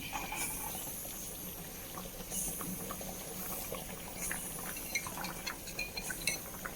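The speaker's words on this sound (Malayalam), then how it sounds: "ഇനി നമുക്ക് 1-ാം പാൽ ഒഴിച്ച് കൊടുക്കാം" First-press coconut milk pours and bubbles softly into a pan for ada pradhaman, a quiet gurgling with small clinks of metal scattered through, close and fairly faint.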